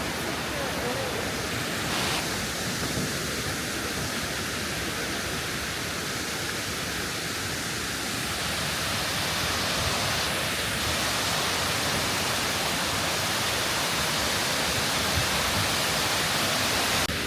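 Rushing water at Kuang Si waterfall roars as a loud, dense, unbroken wash of noise that carries on steadily for the whole stretch, with no other sound standing out.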